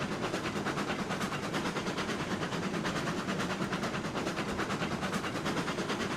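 A narrow gauge train running in the railway game RailRoads Online, a steady dense rumble with fast rhythmic clickety-clack of wheels, continuous and even throughout, with no talking.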